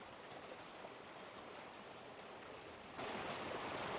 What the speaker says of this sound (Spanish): Las aguas siguen corriendo más allá de las presas